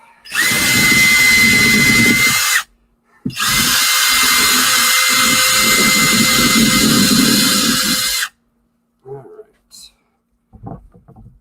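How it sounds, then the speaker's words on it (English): Power drill carving a pumpkin into a fish shape, whining loudly in two long, close bursts with a brief pause between, then stopping, leaving a few small clicks and handling sounds. "Let's clear a little bit more of this pumpkin off the drill."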